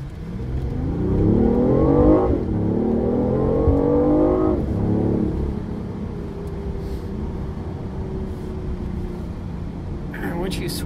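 A BMW i8 sports car accelerates hard along the curves of Mulholland Drive, its engine rising in pitch through several revving pulls with shifts between them, then settling into a steadier cruise. A voice speaks over the engine noise.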